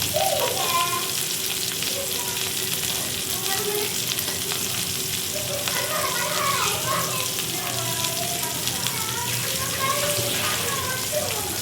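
Squid rings frying in hot oil with a steady, continuous sizzle and crackle throughout, close by, with faint background voices and clinks of stirring.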